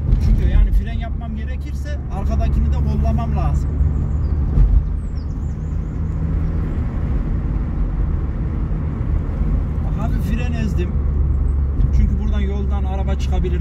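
A car descends a hill during a driving lesson while gears are shifted from third to fourth, its engine hum and road noise steady underneath and a person talking over it throughout.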